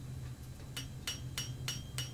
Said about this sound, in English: I like to do it with a hammer to start with